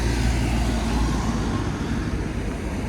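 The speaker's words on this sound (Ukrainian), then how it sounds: "Зараз машини попроїжджають." Cars passing along a street on the way to a grocery shop make a steady, loud, close rumble of road noise that lasts throughout, with no talking.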